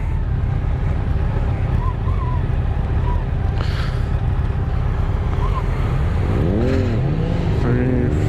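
Yamaha FZ-10 motorcycle being ridden at a demo day, its engine a steady low drone buried under heavy wind rush, with a few rising and falling pitch sweeps as it changes speed near the end.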